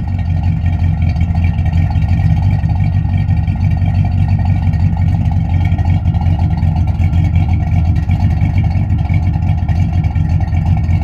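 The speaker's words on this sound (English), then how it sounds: "I have an aftermarket Flowmaster exhaust system on this car. It gives it a pretty good sound." A 1972 Chevrolet Corvette Stingray fitted with an aftermarket Flowmaster exhaust runs close by, giving a loud, steady, deep rumble that holds at one even level throughout.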